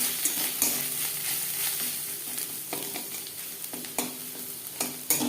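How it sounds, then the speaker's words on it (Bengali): Curry leaves and turmeric fry in hot oil for kadhi pakora, a constant sizzle punctuated by sharp spatula knocks and scrapes on the pan. "কারি পাতা ভেজে নেওয়ার পর দিয়ে দেবো হলুদ,"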